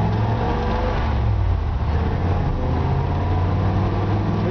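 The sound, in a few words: 1954 Ford F-100 truck engine driving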